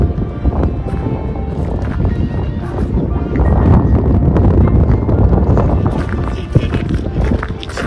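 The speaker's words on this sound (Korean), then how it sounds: "바람이 많이 불어서 걷기가 쉽지가 않네요." Strong wind buffets a walk around the grounds of the Château de Fontainebleau, a loud, continuous roaring rumble that swells slightly midway and stays steady throughout.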